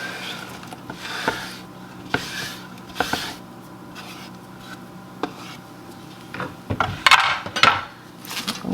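Chopped cabbage is tipped into a stew pot, making scattered light clatters, rustles and scraping knocks, with a few sharper clinks of utensils against the pot near the end.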